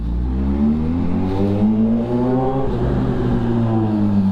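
A sports motorcycle engine revs up and settles again with a deep, throaty rising and falling tone, close by and sustained.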